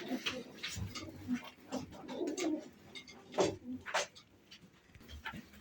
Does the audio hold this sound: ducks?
no